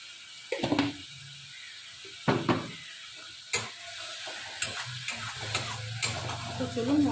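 Spice masala fries in a pan while a spatula scrapes and stirs it in several distinct strokes, each stroke a rattling scrape over a soft sizzle, with faint speech in the background.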